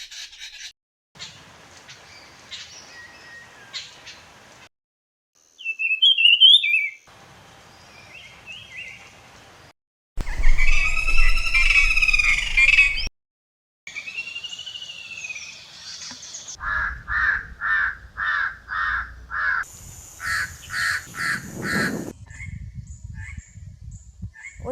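A racket-tailed drongo mimics the calls of an eagle and a woodpecker, giving a varied string of bird notes: screechy calls, whistled phrases, a harsh burst, then a rapid rhythmic series of repeated calls, fairly close and clear.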